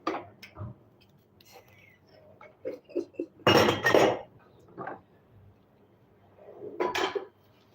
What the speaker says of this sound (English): I'm cleaning the dishes in the kitchen.